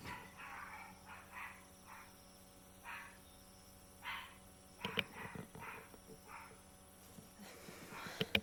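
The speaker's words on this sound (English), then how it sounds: "My dog barking like that." A dog barks in short bursts, several yaps spread unevenly with a louder cluster near the end, faint and somewhat distant, no talking.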